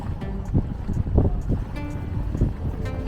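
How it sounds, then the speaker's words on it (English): Strong wind buffets the microphone while a sailboat drifts in neutral into its slip, making gusty low rumbles that swell and fade in uneven bursts against a constant windy hiss. "now the wind is going to start pushing me to the port side."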